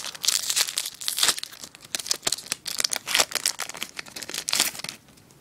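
A Pokémon Next Destinies booster pack wrapper being torn open, close crisp foil crinkling and ripping in quick irregular bursts that fade near the end.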